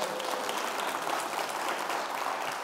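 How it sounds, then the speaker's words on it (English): Audience applause at a college fall convocation, a continuous wash of clapping heard at moderate distance and fairly soft, with no voices over it. "Thank you for the applause"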